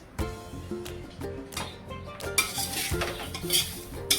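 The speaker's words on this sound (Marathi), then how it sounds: "पोहे कधीही एकदम मंद आचेवरच भाजायचे, घाई करायची नाही" Thin poha roasting slowly in a hot pot over a very low flame, stirred with a utensil that scrapes and clinks against the metal in repeated close strokes, with no voices.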